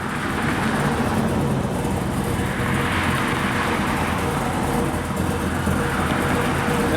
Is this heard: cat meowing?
no